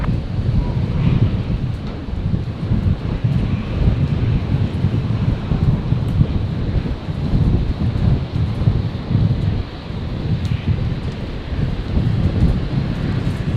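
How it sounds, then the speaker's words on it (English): Strong gusty wind buffets the microphone at Brisbane International Airport, a loud, continuous low roar and rumble that swells and dips throughout with no break. "Tell you what, that wind is crazy at the moment."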